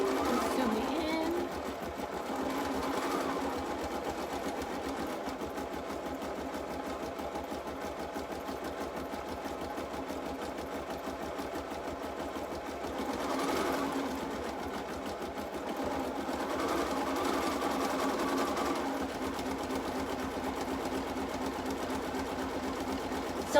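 An embroidery machine stitches a small snowflake table-runner design, giving a steady, fast mechanical whir that keeps up through the whole stretch, rising a little in a few spots and close by, with no talk over it.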